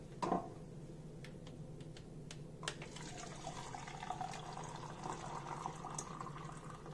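Boiling water poured into cornmeal in a bowl, a faint steady liquid stream after a small knock, quiet and close with no talking.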